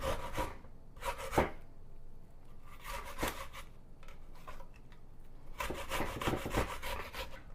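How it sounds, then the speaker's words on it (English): Onion grated by hand for coleslaw: bursts of rough rasping strokes come in three clusters with pauses between them, quiet and close, with no talking. "we're just going to grate about 2 tablespoons of onion"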